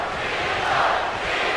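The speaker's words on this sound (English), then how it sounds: "Crowd chanting for Cena" WWE 2K crowd chanting for John Cena during a Raw match, a steady, dense arena roar with a swelling chant in the middle, no one speaking.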